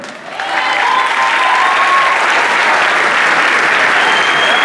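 A dense wash of audience clapping greets a dancer at a choreographic show. It swells quickly after a softer start and holds loud and steady, with faint voices mixed in.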